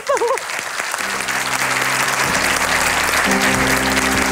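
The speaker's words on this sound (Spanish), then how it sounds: "Aplausos, por favor." Loud studio audience applause on a Chilean comedy show, sustained clapping with a voice briefly at the start and held musical tones rising underneath.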